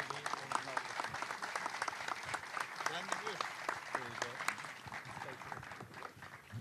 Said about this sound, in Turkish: ayakta alkışlıyoruz.